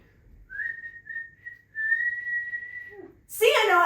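A person whistles a single sustained tune of long held notes, clear and close in a quiet room, followed by a brief burst of laughter or noise at the end.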